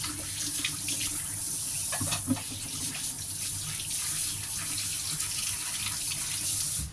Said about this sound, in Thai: ล้างมือก่อนนะคะ